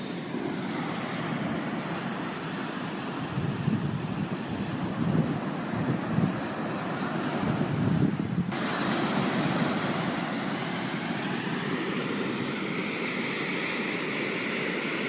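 Ocean waves wash continuously with wind rushing across the microphone, a dense, steady roar that swells and eases slightly throughout, with no voices.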